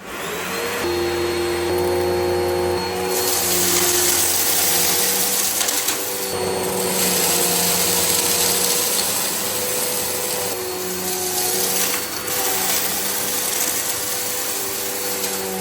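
A Hoover upright vacuum cleaner runs on carpet with a loud, steady motor whine and hum that dips briefly a few times, as if moved or adjusted, then resumes.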